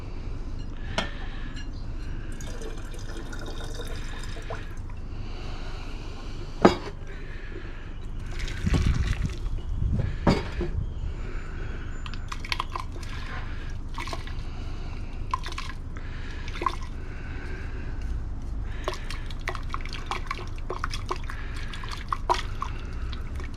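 Recovered gold being washed with water after coming out of a stock pot, with close dripping, splashing and trickling and a few sharper liquid knocks and squishes running throughout.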